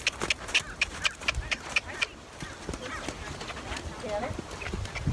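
A horse cantering on sand, its hoofbeats thudding in a quick, repeated rhythm close by over a few seconds, with a person's voice speaking and calling over the footfalls.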